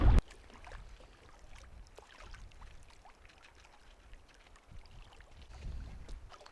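Canoe out on open water in Wabakimi Provincial Park, fighting a strong headwind, with a steady rush of gusting wind and low buffeting rumble, small splashes and water movement throughout, a sharp thump at the very start.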